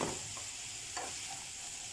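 Apple quarters cooking in butter in a frying pan: a faint, steady soft sizzle with a couple of brief light clinks, no voices.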